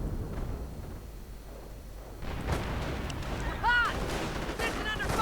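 Howitzer artillery fires in a wartime strategy video game, booming and rumbling in the distance under continuous battlefield noise, with a louder burst near the end.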